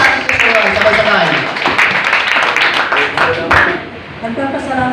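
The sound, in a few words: audience applauding in church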